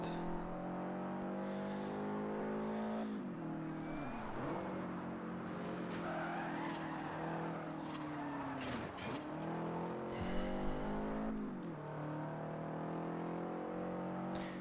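Cars race in the game Forza Horizon with engines droning loud and continuous, the pitch sweeping up and down through gear shifts, and tires squealing in places.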